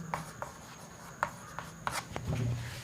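Marker or chalk writing on a board during a Class 9 maths lesson on triangle angles, with short scratchy strokes and taps spaced irregularly, close and fairly quiet.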